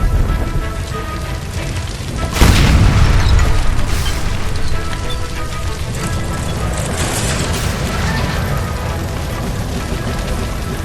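A gas line explodes after being shot in the L.A. Noire video game, a sudden loud deep boom that gives way to a sustained rumbling roar of flames and debris.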